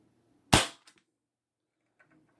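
A Ruger Mk 2 CO2 air pistol fires over a chronograph: one sharp, loud crack that decays quickly, followed by a couple of faint mechanical clicks in otherwise quiet surroundings.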